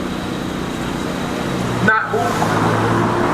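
A car passes loudly outside, its steady road rumble filling the background with a brief horn-like toot, while a voice speaks briefly over it.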